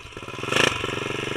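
A 212 small engine in a Tao Tao fires up and catches in a quick burst, then settles into a loud, close, rapid chugging idle.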